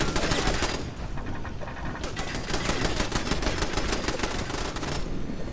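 Automated turrets firing in the video game Fallout 76, dense rapid bursts of gunfire rattling almost continuously, loud and close, with a brief lull before the shooting resumes.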